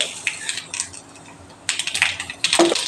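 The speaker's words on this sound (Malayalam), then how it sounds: "കടുക് പൊട്ടിക്കഴിയുമ്പോൾ" Mustard seeds crackle and pop in a small amount of hot coconut oil, giving scattered sharp clicks and ticks close by, with a denser burst of popping in the second half.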